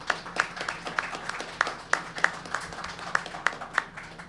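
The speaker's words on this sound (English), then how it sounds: "So maybe a round of applause for John Vargo." Scattered clapping from a modest audience at a Sarnia Sting hockey hall of fame ceremony, honouring inductee John Vargo, with sparse, uneven claps over a low hall hum.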